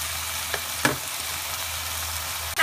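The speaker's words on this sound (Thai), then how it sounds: "ก็ผสมผัดให้เข้ากัน" Chicken with ginger stir-fries in a pan with a steady sizzle, broken by a few sharp scraping strokes of a spatula.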